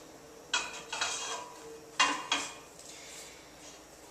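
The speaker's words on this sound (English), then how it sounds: "So you just make sure you get it all out of these cans." Tomato sauce being scraped out of metal cans, heard as a handful of close, sharp metallic scrapes and knocks spaced irregularly, with quieter clatter between them and no talk.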